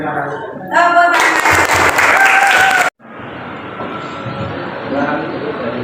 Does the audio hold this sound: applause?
yes